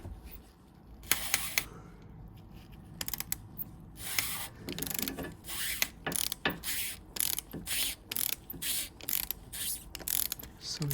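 A ratchet wrench on the transmission of a 2011 petrol Volvo XC60 clicks in repeated bursts of fast ratcheting, close and fairly loud, with short pauses between strokes and no talking.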